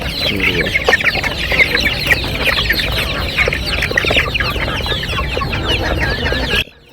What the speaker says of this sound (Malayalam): ഇത് ഗിരിരാജ ഇനത്തിൽപ്പെട്ടുള്ള കോഴിയാണ്